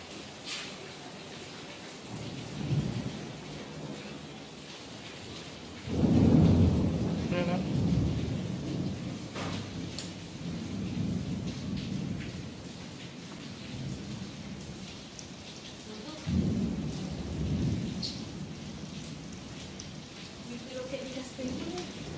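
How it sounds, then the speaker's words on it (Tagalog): Heavy rain pours steadily on Corfu island during a thunderstorm, with several deep rolling thunder rumbles booming close by over the constant downpour, and a voice speaks briefly amid the storm. "Lakas ng kidlat."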